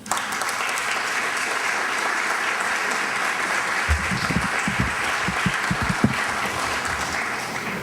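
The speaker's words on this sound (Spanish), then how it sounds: "Lo recibimos con un fuerte aplauso" Steady audience applause in an evening talk on the origins of zarzuela in a hall's assembly room, a dense continuous wash of many hands clapping throughout, with a few low thumps near the end.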